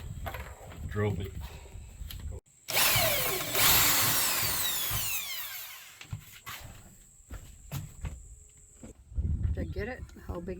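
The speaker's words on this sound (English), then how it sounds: "Might need a bigger drill bit." A power drill with a larger bit bores through a Mitsubishi Rosa bus panel, a loud sustained whine of a few seconds that fades, with brief talk before and after.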